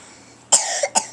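A cat gives a short cough, two or three quick dry bursts close to the microphone, with no talking over them.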